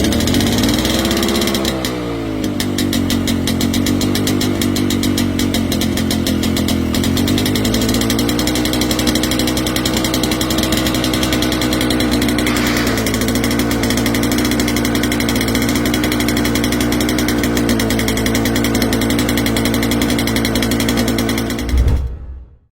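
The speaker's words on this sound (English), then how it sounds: "A low, persistent rumble that signals strength." Old 12-cylinder 71 Detroit diesel of 852 cubic inches rumbles loudly at idle after starting, a steady throbbing drone that holds for about twenty seconds and then cuts off.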